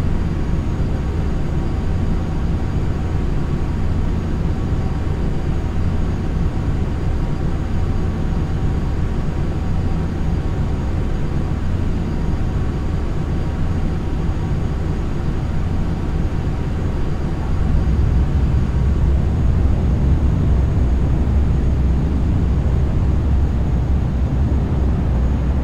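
An airplane lands in the FSX flight simulator game, a steady loud drone of engine and wind noise that continues unbroken, with a deeper rumble swelling in near the end as the aircraft touches down.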